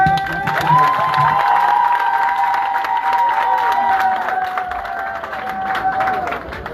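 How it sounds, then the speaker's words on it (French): A large crowd at a political rally cheering and clapping, with shouts and a sustained high whistle-like tone running through the noisy applause. "Faites un tonnerre d'applaudissements pour vous déjà"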